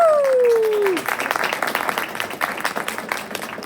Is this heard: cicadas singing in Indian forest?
no